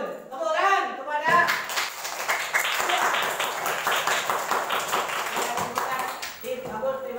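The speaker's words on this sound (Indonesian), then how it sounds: "Tepuk tangan kepada" A classroom full of students bursts into rapid applause for a team, loud and close, with a teacher speaking before and after it.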